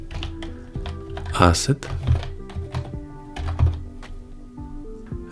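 Typing on a computer keyboard while writing Flutter code, a run of quick clicky keystrokes with a few heavier thunks, heard close, with a voice talking over part of it.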